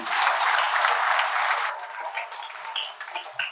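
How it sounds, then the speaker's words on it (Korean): A seminar audience claps loudly for a successful presenter, a dense burst of applause that fades after a couple of seconds into scattered, thinning claps. "박수 한 번 부탁드립니다."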